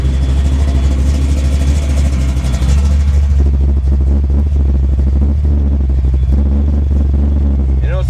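A 1991 Ford Mustang GT with a 347 stroker engine idling, a loud, steady low rumble throughout, with a person talking over it.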